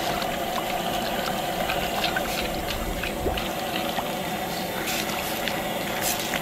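Water boiling in a WonderWok, a steady dense bubbling hiss and rumble that stays even throughout, close and continuous with no talk.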